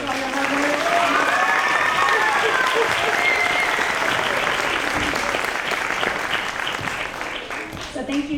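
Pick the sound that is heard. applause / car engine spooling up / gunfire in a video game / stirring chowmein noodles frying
applause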